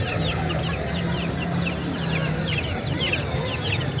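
Live chickens carried in a bag at an Ecuadorian market cluck and squawk continuously, several birds close by amid steady background bustle.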